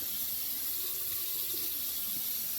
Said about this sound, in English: Let's fill up a little bit of water and slosh it around so that cleans it better.